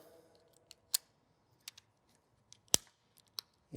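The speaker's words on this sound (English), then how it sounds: "you can take an X-Acto knife and you can puncture the tape, just cut it." X-Acto knife puncturing and cutting tubeless bicycle rim tape, a few sharp isolated snicks and small ticks spread across a few seconds, close and quiet with no talk.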